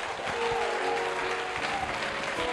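A church congregation claps together in a brief, moderately loud burst of applause that fills the room and continues evenly without pause.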